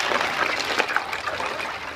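Water in an outdoor ice bath being stirred and mixed by hand, a steady close splashing and sloshing that fills the whole moment with no talking.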